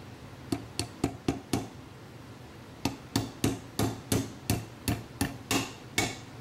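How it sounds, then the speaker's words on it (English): A hammer taps a pin into a Colt Python revolver, sharp metallic strikes in two quick bursts, five rapid blows, a pause, then about ten more evenly spaced hits, close and clear with no talk. "Let me just go get the hammer."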